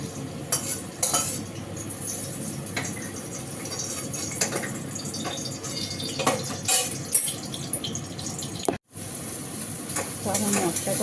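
Spice paste for a masala gravy fries in a pan with a steady crackling sizzle, broken by stirring scrapes and utensil clinks, close and fairly loud, with a brief dropout near the end.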